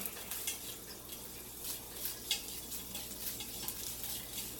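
Morningstar veggie crumbles, still defrosting, are stirred around a pan for street tacos, giving a steady close scraping and light sizzling with occasional utensil clinks against the pan.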